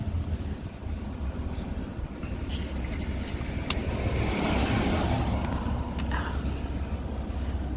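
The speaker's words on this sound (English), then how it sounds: "there is a car behind me, and I want to let them pass" A car approaches from behind and passes on a residential street in the Northview neighborhood of Phoenix, Arizona, its engine and tire noise swelling steadily to a peak over a steady rumble of the filming car's own road noise.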